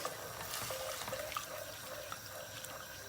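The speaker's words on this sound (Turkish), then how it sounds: "Bundan sonra sıcak su katabilirsiniz." Hot water poured into a pot of eggplant stew, a steady close splash and trickle of liquid running throughout with no talking.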